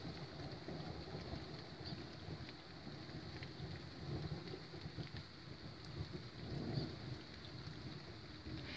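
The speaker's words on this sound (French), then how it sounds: "Ça fait 3 fois que ça gronde, ça fait 3 fois que ça tonne en l'espace de 10 secondes." Low rumbling of a stationary thunderstorm rolls on under steady rain, with swelling surges of deep thunder around the middle and later part, no voices present.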